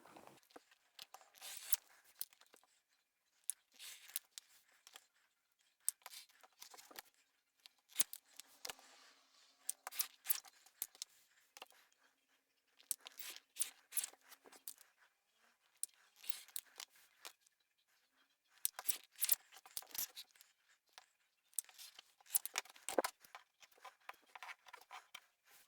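Scissors cutting through fabric stabiliser for a sewn box or pouch, heard as repeated bursts of crisp snipping strokes in close, quiet passes with short pauses between runs.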